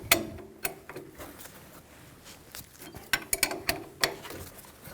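Ratcheting clicks from a wrench tightening the castle nut on an upper ball joint stud of a 2005-2015 Toyota Tacoma, in short irregular bursts of metallic ticks up close, with quiet gaps between strokes.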